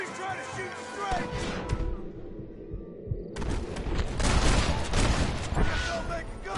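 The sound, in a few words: gunfire in Red Dead Redemption video game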